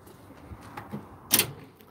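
A drawer on a tool cart slides shut in the garage with one short, sharp clack, standing alone over a low room hum.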